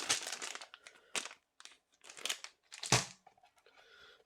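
Plastic Ziploc bags crinkle and rustle in several close, uneven bursts with short pauses between handlings, while unboxing a board game.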